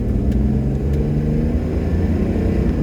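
A Jaguar XJ Series 1 with the 4.2 engine pulling hard under acceleration, heard as a loud, steady, deep engine rumble inside the car that holds without a break.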